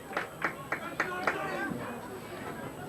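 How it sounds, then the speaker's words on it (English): Norristown football fans at a 1988 high school game against Abington, applauding in a string of distant claps and taps under crowd murmur while a commentator talks. "you can hear the Norristown fans applauding"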